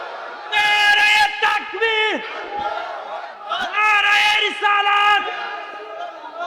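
Crowd at an Islamic waz mahfil roars a religious takbir chant in reply to a preacher's call, loud massed voices in two long bursts with sustained tonal shouting.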